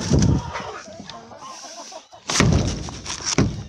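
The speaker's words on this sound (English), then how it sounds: "He's such a good bird." A pet bird squawks and clucks loudly in short bursts while being put away outdoors on a cold, windy day, with wind noise and quieter chatter between calls.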